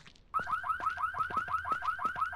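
A gun shop alarm in the video game No One Survived starts abruptly and repeats a rapid, looping two-tone electronic whoop, loud and close, like a car alarm.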